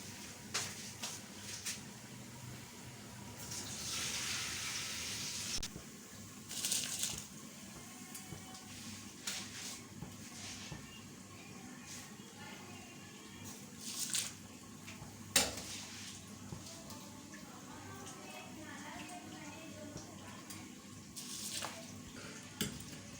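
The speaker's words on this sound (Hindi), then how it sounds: "अभी हम इसमें चावल ऐड करेंगे।" Raw rice goes into a pot of boiling water while cooking chicken biryani, with intermittent splashes, bubbling water and clinking pots and utensils in a home kitchen, moderately quiet with occasional sharp clatters.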